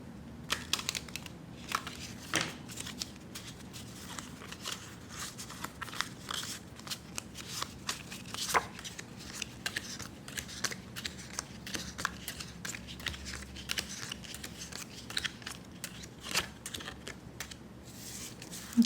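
A deck of playing cards being shuffled for a card reading, giving a long run of close, dense clicking and rustling taps that continue steadily with no voices.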